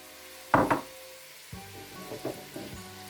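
Zucchini and coriander hitting a hot pan, giving two loud sizzling bursts followed by a softer, steady frying crackle with a few light stirring sounds, close and without talk.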